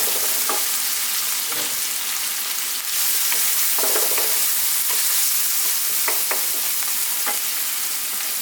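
Oil in a pan sizzles and fries steadily as turmeric goes in for a cabbage and potato stew, with occasional stirring scrapes and clicks over the constant hiss, no talking.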